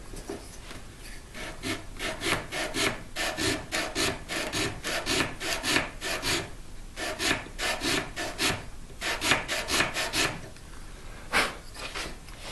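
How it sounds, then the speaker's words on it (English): Steady back-and-forth rasping of abrasive paper on a guitar's wooden neck joint, in quick rhythmic strokes with a few brief pauses, close and fairly loud. "Let me check and see that I'm sanding straight."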